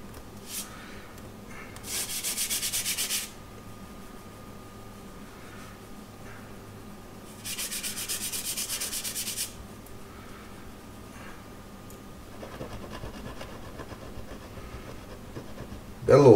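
A toothpick rubs over a concrete countertop to work an air bubble void, making two close, scratchy bursts of a few seconds each. Quieter handling noise fills the gaps between them.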